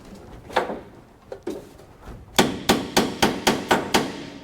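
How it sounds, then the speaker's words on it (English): A small hammer taps a few scattered times, then strikes about seven quick, evenly spaced knocks close by. "Let me try my hammer."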